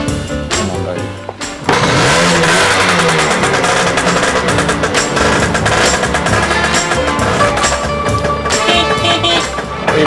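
A small scooter engine revs loudly and continuously up close, a buzzy, rattling roar that surges after a brief stutter at the start.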